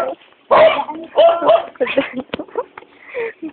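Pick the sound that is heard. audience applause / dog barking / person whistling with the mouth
dog barking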